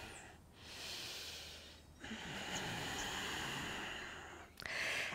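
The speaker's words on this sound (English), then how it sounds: "Inhaling and exhaling." Slow, steady breathing during a yoga flow: a long, soft airy inhale and exhale, close and quiet, with a brief pause between breaths and no talking.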